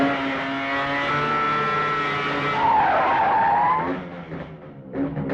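A car pulling away with tires skidding, a loud sustained squeal that rises in pitch over the engine's drone, then eases off into a rougher rumble as the vehicle departs, heard on its own without talk.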